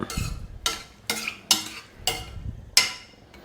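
Mutton stew being stirred in a pot: a spoon scrapes and clatters against the pot in six sharp, evenly spaced strokes over a soft bubbling simmer, close and fairly loud, with no voices.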